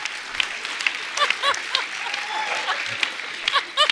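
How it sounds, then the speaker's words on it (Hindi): A studio audience at a comedy talk-show taping claps in a dense burst of applause, with scattered chuckles and brief voices mixed in throughout. "ठोको ताली"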